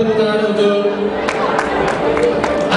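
A wedding reception crowd applauds the couple Andre and Juanita, a loud, dense wash of clapping and cheering with scattered sharp claps. It sits under music and a voice over the sound system.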